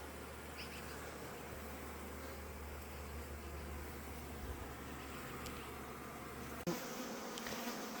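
Honey bees in a hive headed by a Kona queen, built up into a double, drone in a steady dense buzz that fills the whole time, with a brief thump near the end.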